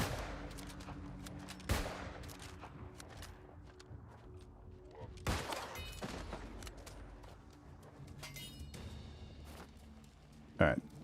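Gunshots in the online game New World land as a few sharp, scattered cracks amid footsteps and ambient game sound, with a person talking throughout.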